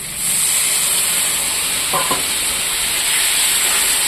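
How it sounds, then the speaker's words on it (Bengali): Spice paste of turmeric, dried red chilli and salt frying in a pan, a steady close hiss and sizzle throughout with a brief scrape of stirring near the middle. "আবারও একটু ভাজা ভাজা করবো।"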